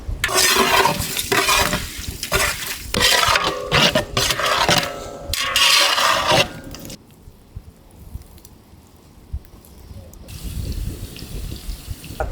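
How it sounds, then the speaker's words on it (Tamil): Chopped onions stirred in a frying pan for a biryani, with a scraping spatula rhythm and sizzle loud at first, then dropping to a quieter low simmer for the last few seconds. "நறுக்கி வச்சு வெங்காயத்தை சேர்த்து விடுமுக்கா."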